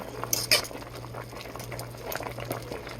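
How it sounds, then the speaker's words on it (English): Zuppa Toscana soup simmering in a pot on the stove, a soft steady bubbling with a low hum beneath and a few sharp metallic clinks near the start. "So our soup is over here cooking"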